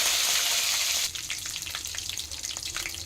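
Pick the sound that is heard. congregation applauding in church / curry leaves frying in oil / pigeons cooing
curry leaves frying in oil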